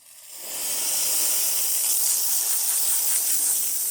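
A steady, loud rush of steam hissing from a La Pavoni espresso machine's steam wand, building quickly in the first half second and holding constant without pause.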